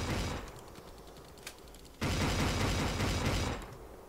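A shotgun fires in Last Stand Union City, a loud blast at the start, then a second heavy burst of gunfire that holds for over a second before fading, with a small click in between.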